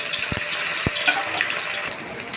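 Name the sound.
eggs frying in hot oil in a wok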